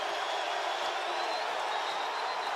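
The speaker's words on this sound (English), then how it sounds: "Listen to this Grizz crowd." Roaring crowd at a Montana Grizzlies college football game against South Dakota State in a stadium, a broad, sustained wash of cheering noise with no breaks, loud and distant-sounding.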